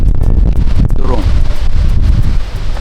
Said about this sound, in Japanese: 多分、強風で、 全然音が聞こえないと思いますが、